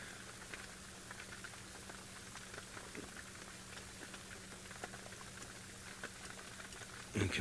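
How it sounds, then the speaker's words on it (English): Rain drums steadily on a roof, a soft, even patter with scattered louder drops, faint and continuous throughout with no voices. "You can probably hear the rain on our roof."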